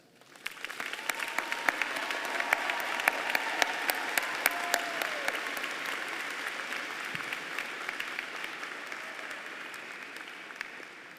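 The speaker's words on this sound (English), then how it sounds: "these scholars have studied with distinction, and they merit your applause." Graduation diploma ceremony audience in the College of Music and Media applauding for graduating scholars; sustained, dense clapping starts within a second and holds steady for about ten seconds, fairly distant and hall-filling, with no talk over it.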